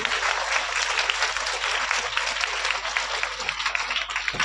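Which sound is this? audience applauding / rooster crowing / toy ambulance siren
audience applauding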